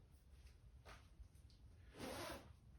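The chest pocket zipper of a Weatherwool jacket is pulled, a quiet close-up zipping rasp with a short first pull and a longer, louder second pull, alone without talk.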